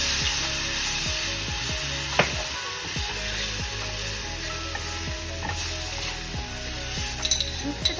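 Schezwan noodles with soya sauce being stir-fried in a hot pan, a steady loud sizzle throughout with repeated scraping and tossing strokes of a spatula, no voices.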